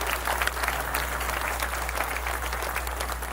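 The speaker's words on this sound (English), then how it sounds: "I ask all of us to applaud him" A large audience applauds Prime Minister Narendra Modi with dense, steady clapping that stays loud and even from start to finish, with no voices rising above it.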